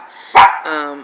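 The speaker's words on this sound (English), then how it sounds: "That's a dog bark." A dog gives one sharp, close bark, followed by a short tonal whine.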